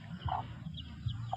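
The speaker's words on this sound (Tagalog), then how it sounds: "Rhode Island Red." A Rhode Island Red chicken clucks softly and close by, giving a few short, faint clucks and murmurs over quiet background noise.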